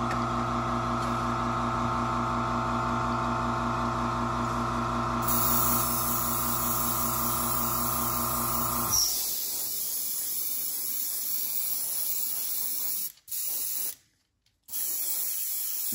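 A small air compressor drives an airbrush spray-painting crankbait lures with white base coat; a steady hum with strong tonal harmonics runs for about nine seconds, then cuts off, leaving a continuous airy spray hiss with brief breaks near the end.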